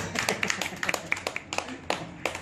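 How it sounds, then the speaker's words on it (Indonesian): Sparse, scattered clapping from a small audience, individual claps distinct and irregular rather than a full roaring applause. "Saya ingin tepuk tangannya untuk beliau."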